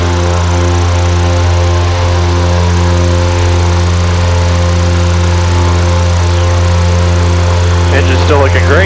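Steady, loud drone of an aircraft engine at takeoff and initial climb with gear coming up, a constant harmonic hum throughout; brief radio-like voice bursts near the end.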